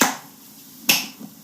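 Two sharp finger snaps, made to sync audio, ring out crisply at close range about a second apart, each with a quick decay, followed by a faint third tap in a quiet room.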